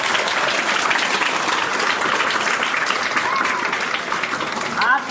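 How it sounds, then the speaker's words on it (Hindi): A crowd of students claps loudly and steadily at a school quiz event, dense applause filling the whole stretch with a faint whistle-like sound near the end. "एक बार जोरदार ताली के साथ स्वागत करें।"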